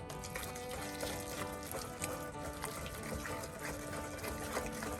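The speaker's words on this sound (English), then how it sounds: "I'm going to add a little more water than I have." Water poured in a steady, continuous stream into a bowl of tahini hummus while it is being whisked, with a light, even rushing sound throughout.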